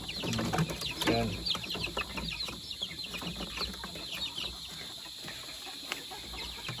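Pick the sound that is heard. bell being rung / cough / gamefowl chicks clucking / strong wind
gamefowl chicks clucking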